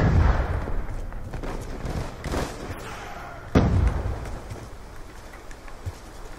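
Gunfire in Call of Duty Black Ops II: several sharp shots and thuds spaced irregularly, one especially loud report midway, over a background of game ambience.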